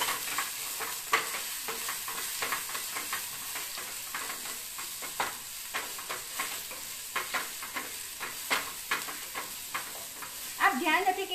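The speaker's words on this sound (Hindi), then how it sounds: "ये पेस्ट को हम सौते करेंगे" Ginger garlic paste sautéing in a pan, heavier on garlic than ginger: a steady close sizzle and frying hiss with repeated scraping stir strokes, alone without talk.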